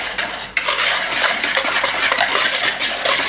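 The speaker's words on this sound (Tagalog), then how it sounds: "Then, mix lang natin thoroughly." Flour, sugar and baking powder being mixed thoroughly in a bowl for chiffon cheesecake batter: continuous close scraping and stirring with light clinks of utensil against bowl, no talking.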